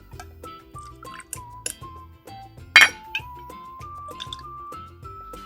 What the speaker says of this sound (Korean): 칠링한 롱드링크 잔에 얼음 담았고요.